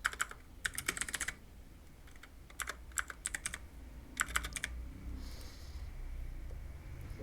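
Bursts of typing on a computer keyboard while searching for background apps in Windows settings, several quick clusters of close key clacks separated by short pauses, with no voice.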